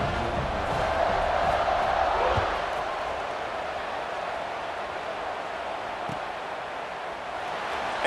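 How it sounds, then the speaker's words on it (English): A stadium crowd murmurs and buzzes steadily in EA Sports College Football 26 after a score, a dense, continuous roar of many voices with a brief swell early on and no distinct cheers standing out. "this crowd is buzzing after that last score."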